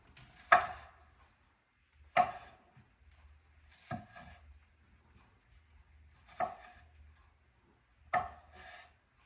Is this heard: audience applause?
no